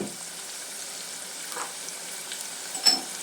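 Chopped onion pieces frying in a pan for a prawn curry, an even low sizzle throughout with a few soft stirring sounds and one brief sharper tap near the end.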